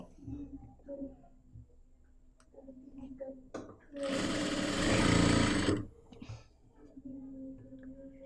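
Sewing machine stitching a seam on a churidar, running in one steady loud burst of about two seconds in the middle, with quieter handling and faint talk before and after.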